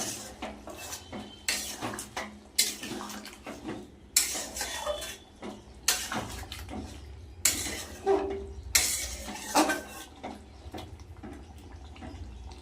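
A spicy potato curry with ghee cooks in a pan. A metal spoon stirs and scrapes, giving intermittent close clanks and clatters with quieter gaps between.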